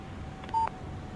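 A short electronic beep from a phone text message alert in the Alan Wake video game, a single brief tone over a quiet background hum.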